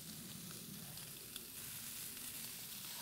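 Bacon sizzling on an Infinity 5 burner barbecue outdoors in light rain, a dense steady crackling hiss, close and continuous.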